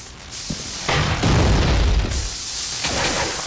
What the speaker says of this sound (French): Alors, on va réutiliser le lance-grenade.